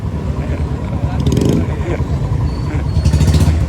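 A motorcycle engine revs repeatedly in a noisy street setting during firecracker pranks, loud and close with surging bursts, while voices talk over it.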